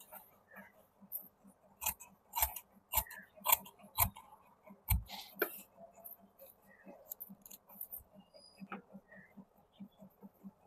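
Scissors snip through extra fabric while trimming a suit during a sewing lesson, a series of crisp, close clicking cuts in irregular bursts, quiet overall with soft background noise.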